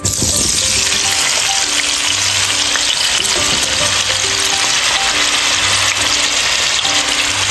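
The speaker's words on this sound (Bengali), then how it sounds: "এই যে আলুগুলো দিয়ে দিলাম তেলের মধ্যে। এখন একটু ফ্রাই করে লাল লাল করে ভেজে নেব।" Potatoes, washed and coated with salt and turmeric, sizzle loudly in hot oil for a beef curry, a dense continuous frying hiss with occasional stirring scrapes, close and without voices.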